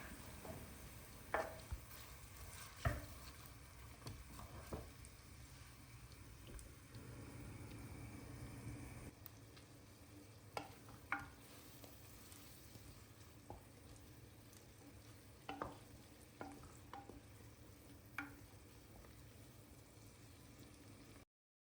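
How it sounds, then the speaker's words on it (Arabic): Onion and garlic frying in a pot for seafood soup, a faint, steady low sizzle and bubbling with occasional clicks and stirring knocks, no talking. "نخليو البصل هي أول شيء تتقلى جيدا وبعدها نضيف تدريجيا الخضر الأخرى"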